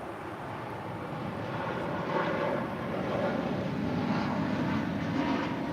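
Jet engines of an American Airlines Boeing 777-200ER at LAX, a steady broad roar that swells slightly and holds, heard at a distance with no voices.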